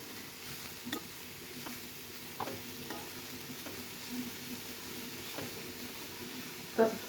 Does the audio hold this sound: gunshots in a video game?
no